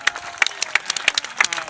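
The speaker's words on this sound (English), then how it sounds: "Yeah, round of applause." Scattered hand claps from an audience at an outdoor lumberjack show after a saw and chainsaw demonstration, with about eight sharp claps spaced irregularly over a bit under two seconds, moderately close.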